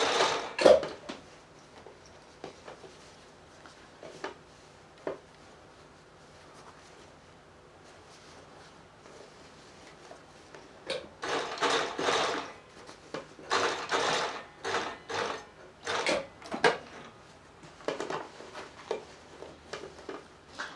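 A domestic sewing machine stitches a zip into jeans in short, uneven bursts of whirring with quiet gaps between them, close by and with no voices.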